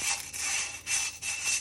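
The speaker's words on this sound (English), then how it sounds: "With the 240 grit sandpaper, the first thing I do are my outer edges." Strokes of 240 grit sandpaper rubbing along the outer edges of a glass piece in light, rotating passes, giving a steady close scratchy hiss in several short pulses with brief pauses between them.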